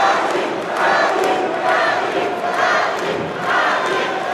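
A home boxing crowd at Hull City Hall roars and cheers for a local fighter, a loud, sustained swell of voices that rises and falls in waves.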